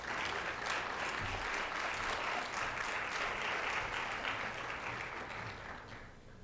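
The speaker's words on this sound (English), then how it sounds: "Please give him a round of applause as he comes forward." Sustained audience applause at a social justice reception and MLK oratorical contest as a contestant comes forward, a dense steady wash of many hands that holds for several seconds, then gradually tapers off.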